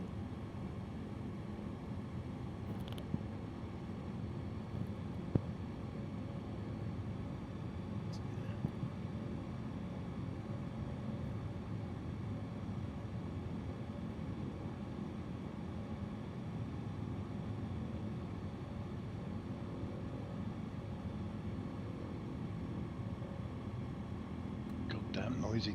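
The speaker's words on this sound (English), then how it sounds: "Goddamn noisy turboprops." Turboprop engines drone in a flight simulator flight over the Andes, a steady loud broadband hum lasting the whole stretch with only a few faint clicks and no change in pitch.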